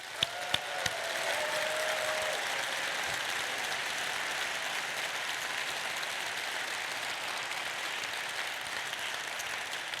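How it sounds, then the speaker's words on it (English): Steady, full audience applause at a Clipper Race crew allocation event honoring the race staff, sustained evenly for ten seconds after a few sharp opening claps and a brief tone. "let's have a big round of applause for the Clipper Race staff"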